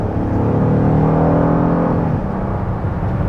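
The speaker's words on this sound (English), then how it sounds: "the engine started being louder" A 2021 Honda Odyssey Touring minivan engine in sport mode drones loud and steady from inside the cabin, with a rising harmonic whir that eases off near the end.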